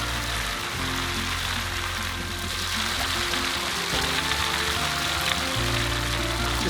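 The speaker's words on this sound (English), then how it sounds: "Raining again." Rain falls steadily during a sail in a small wooden dinghy near Refuge Bay, Australia, a constant soft hiss of drops on water and boat with a low rumbling underneath and no talk.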